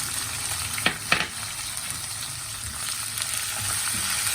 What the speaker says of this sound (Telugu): ఇవి కూడా బాగా బ్రౌనిష్ కలర్ వచ్చే వరకు వేయించుకుందాము